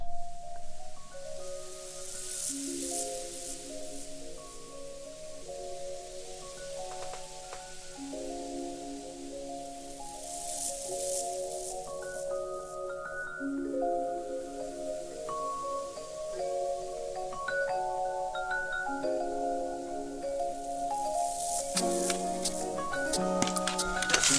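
Humanized synth or keyboard chords play slowly in a repeating progression, each chord's notes rolled slightly apart rather than struck together, with soft airy noise swells between phrases and no voices.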